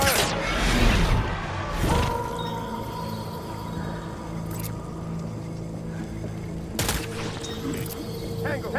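Gunfire crackles in a Death Stranding PS4 battle: loud bursts open the scene, then a rumbling, busy backdrop follows, and another sharp volley hits near the end.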